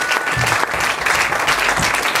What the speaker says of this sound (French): Nous t'acclamons pour manifester ta présence.